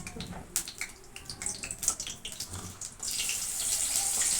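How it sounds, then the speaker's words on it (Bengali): A bay leaf is rinsed under a running kitchen tap: scattered splashes and drips at first, then a steady, hissing stream of water pours continuously toward the end. "তেজপাতাটা একটু ধুয়ে নিচ্ছি"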